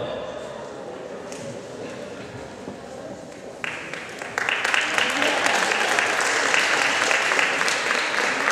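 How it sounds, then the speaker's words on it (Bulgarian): Applause at a rhythmic gymnastics awards ceremony for the clubs final medal winners in Sofia, starting as a steady mid-level patter and swelling louder and denser about halfway through, with crowd noise beneath. "Аплодисменти за призьорките!"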